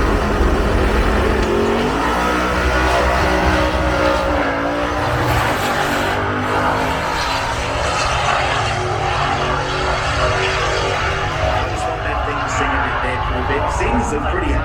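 A Holden Kingswood with a 383 engine launching hard off the line in a drag race, a loud roaring V8 with rising revs, continuous and up close, while a commentator talks over it.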